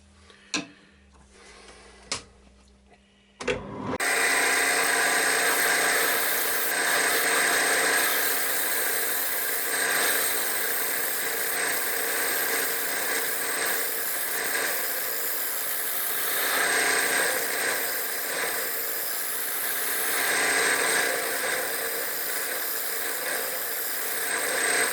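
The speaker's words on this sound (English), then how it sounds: "I'll just give it a few scrapes with a little carbide cutter" A small carbide cutter scrapes the inside of a wooden bowl spinning on a lathe, a steady dense hiss and rasp over the motor hum that runs continuously for about twenty seconds after a few quiet knocks and clicks, with no talking.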